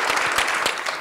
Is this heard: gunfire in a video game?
no